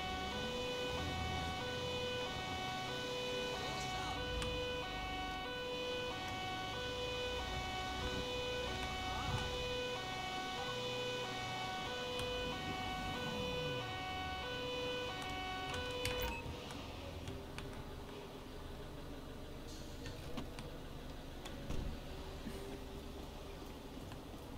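An ambulance siren in the video game GTA 5 wails steadily over layered engine and traffic noise, holding a tonal pattern before cutting out partway through, leaving quieter street ambience.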